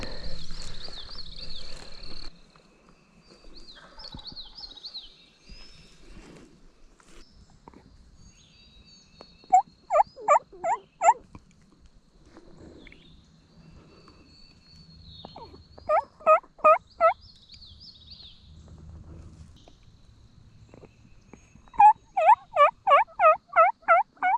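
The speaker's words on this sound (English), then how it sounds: "he just gobbled again." A wild turkey gobbles in Alabama woods: three distinct bursts of rapid rattling gobbles spaced several seconds apart, moderately distant, over quiet background with faint insect chirps and bird calls.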